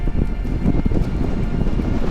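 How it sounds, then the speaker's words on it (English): Strong, steady wind roars and buffets the microphone with a low rumble throughout on a high mountain peak at Donner Summit, Lake Tahoe, California, no clear voices. "Very windy."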